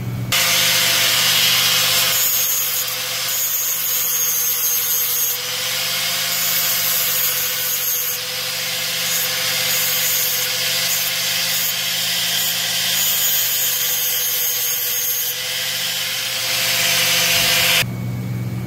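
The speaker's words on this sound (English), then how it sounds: "So I'm going to deburr those pieces real quick, and then we'll get started on mounting everything up." Cut metal pieces for a fabrication project are deburred with a power tool, a loud, continuous grinding whine that holds steady with slight dips for about eighteen seconds, close and alone.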